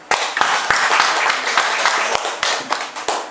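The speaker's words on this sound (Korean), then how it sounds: "먼저 두 사람 우리 박수로 환영하겠습니다." Members of a church congregation clap to welcome two people, a loud close burst of many hands in a dense, sustained round of applause with a few sharper claps standing out.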